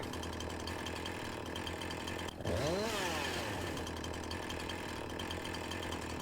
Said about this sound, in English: Select the next chainsaw.